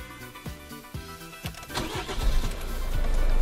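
An engine cranks with several rhythmic turns of the starter, then catches and settles into a rising, steady idle.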